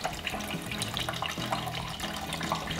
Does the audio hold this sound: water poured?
yes